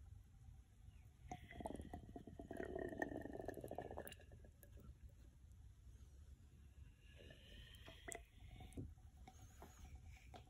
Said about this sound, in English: So it's the sound of air bubbles at the lower section.